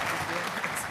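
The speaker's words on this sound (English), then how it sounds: "A warm round of applause representing Morocco here for this last roundtable" A short burst of audience clapping at a health ministers' roundtable session welcoming Morocco's Minister of Health, steady and fairly close with a faint voice underneath.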